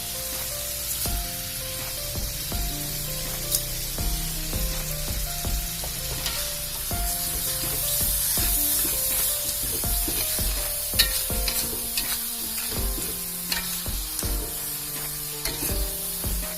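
Spice paste frying in a pan for Palembang celimpungan broth, steady sizzle and hiss with scraping stir strokes at a near, even level, background music and no talk.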